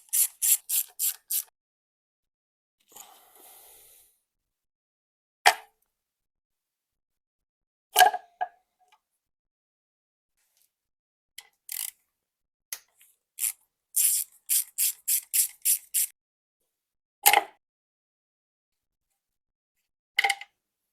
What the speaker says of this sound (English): now firstly let's remove the vanos solenoids